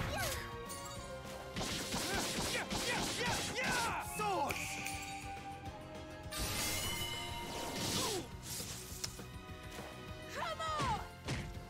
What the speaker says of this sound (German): Die Dinger explodieren halt schön.